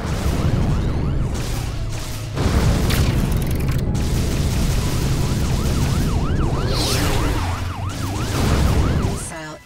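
A warbling missile-alert siren loops over a dense, loud roar of explosions and engine rumble in the space combat game Rebel Galaxy Outlaw, with a heavy boom rising near the end.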